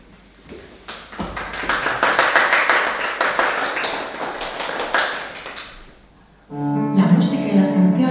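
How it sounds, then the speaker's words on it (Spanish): Audience at a student show from a regular singing course breaks into sustained clapping and applause that builds and then fades, followed by music starting up. "Que les deis un gran aplauso siempre y mucho calor"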